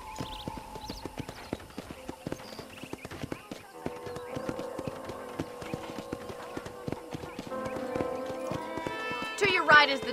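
Red Dead Redemption on Xbox One: horse hooves clip-clop steadily with whinnying whinnies near the end, set among game music and a voice talking throughout.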